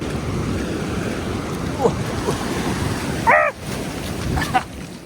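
Ocean waves wash steadily where a creek mouth meets the sea on a beach along the Lost Coast Trail, with a constant roar of surf and wind and brief voices calling out.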